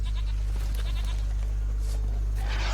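A goat in The Witcher 3 video game gives a short, nasal bleat, close and clear, over a steady low game hum with no talk.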